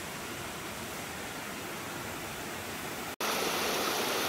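A steady, full rush of river water flowing past a hillside campsite in Padang Rengas, Kuala Kangsar, Perak, continuous and close with a brief break near the end.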